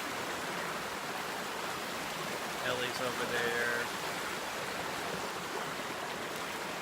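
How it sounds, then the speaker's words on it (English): Steady broadband rush of a creek carrying a lot of water on a sunny day, continuous and close, with a brief spoken remark over it. "We're just continuing heading down the creek here. We got a lot of water."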